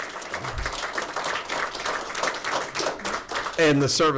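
Audience clapping at a retirement ceremony, a steady wash of hand claps running throughout and swelling louder near the end, with voices mixed in.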